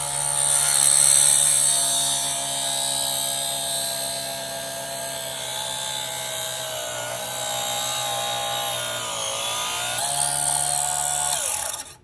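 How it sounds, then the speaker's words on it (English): A small table saw with a used blade cuts through 1/2-inch plywood, making a loud, steady high whine with a slight dip in pitch as the blade bites near the end, then winds down. "There's a 1/2-inch plywood there, and it cut right through it."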